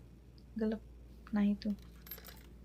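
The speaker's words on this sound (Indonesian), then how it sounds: "Jadi setelah masukin uang koin, aku mau mencet barang yang mau aku beli" Coins drop into a Japanese vending machine: two bright metallic clinks, the second longer and louder, ring out close by over a quiet background, followed by faint rattling and a few quiet spoken words.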